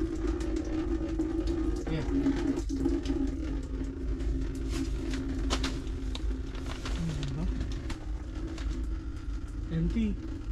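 Water runs steadily from a tap during plumbing work in Canada, a constant close rush under the whole stretch, with someone speaking briefly and faint clinks and a cooing bird in the background.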